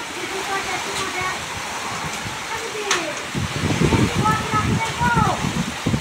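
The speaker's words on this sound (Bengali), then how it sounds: "এ বাবা কত পাথর বৃষ্টি হচ্ছে" A hailstorm sends hailstones pattering down in dense, irregular bursts that grow heavier and louder in the second half, while people talk over the clatter.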